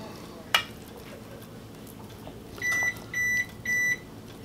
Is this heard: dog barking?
no